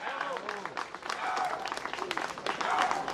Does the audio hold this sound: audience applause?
yes